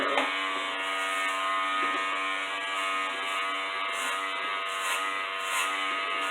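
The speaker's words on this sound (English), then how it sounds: "And you can listen to the razor too." Electric hair trimmer buzzing steadily and loudly up close during a home haircut, a continuous hum with slight wavering as it grabs through hair.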